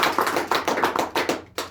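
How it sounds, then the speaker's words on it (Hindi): An audience at a defence academy talk applauds a speaker, a run of about eight crisp, evenly spaced claps at moderate volume, ending with one last clap after a short gap. "तो सर के लिए मेरी तरफ से एक बार जोरदार तालियां होंगी।"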